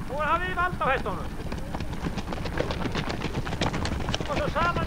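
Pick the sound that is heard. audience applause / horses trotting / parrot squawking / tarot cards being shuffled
horses trotting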